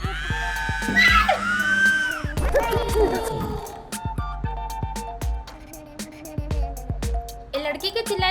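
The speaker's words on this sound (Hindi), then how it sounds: "ये लड़की के चिल्लाए का आवाज कहाँ से आई?" A girl screams loudly in a Chhattisgarhi comedy film scene, a shrill wavering cry followed by clattering, thumps and other busy movie sound effects, with some voices mixed in.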